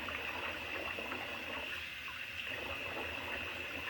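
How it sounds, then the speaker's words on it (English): Water running from a cold tap into a bathroom sink while some of the hot water drains out, a steady close-up rushing and splashing that continues evenly throughout with no talking. "I'm going to let some of this water out and just put some cold in there"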